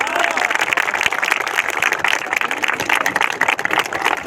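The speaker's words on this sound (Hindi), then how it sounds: "सबसे पहले इनके लिए जोरदार ताली होनी चाहिए" Audience giving loud applause for a group of young women at a Bihar Police gathering, dense steady clapping with crowd noise throughout.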